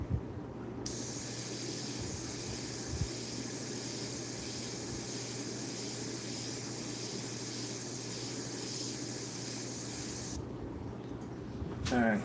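Steady hiss of spray paint being misted over an artwork to soften a highlight, continuous and close for about ten seconds before stopping, with quiet room noise at the edges.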